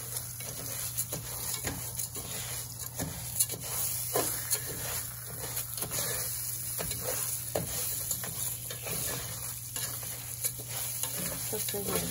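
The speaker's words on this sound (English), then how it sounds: "Still stirring even though my heat is low." Spanish rice stirred in a pan over low heat, with a steady close sizzle under scraping stirs and soft clinks of the utensil against the pan throughout.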